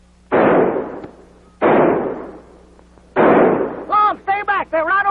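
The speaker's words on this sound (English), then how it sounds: "Tell them to keep shooting, Abner." Three loud gunshot bursts from a vintage radio comedy drama shootout, each blast decaying over about a second, followed by excited voices speaking.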